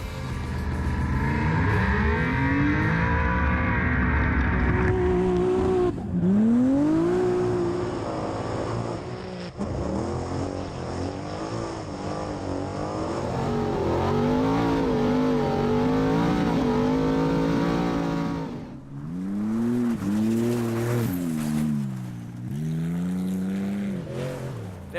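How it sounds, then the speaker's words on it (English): Off-road race cars in a desert enduro roar off the start, engines revving hard and shifting as several machines accelerate away, loud and close, with more cars surging past later. "He needed to finish the race to win the championship and was first away with Greg Gartner."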